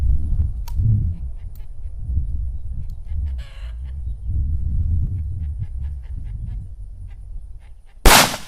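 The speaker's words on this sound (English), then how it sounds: "now I'm going to shoot those two Federal 150 grains" A Federal 150-grain rifle round is fired at a large canned food product; after a long stretch of low outdoor rumble, a single loud, sharp gunshot cracks near the end.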